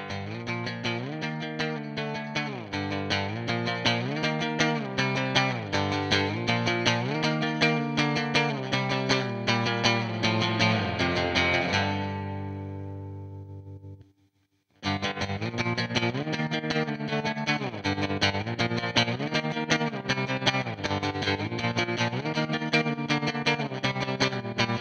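Electric guitar through a Twin amp model in AmpliTube 5, strummed chords with chorus-like shimmer ringing steadily, one chord left to fade into near silence before the playing resumes, alone with no talk.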